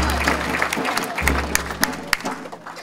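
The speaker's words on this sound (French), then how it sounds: "Nous applaudissons très fort pour notre Dieu." A church congregation applauds during a worship service, steady clapping with a few sharp louder claps standing out, over a low rumbling hum and some crowd sound.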